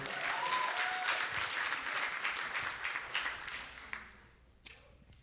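Comedy club crowd at the Laugh Factory in Chicago applauding, a dense burst of clapping and a few whoops that holds strong, then thins and fades out in the last second.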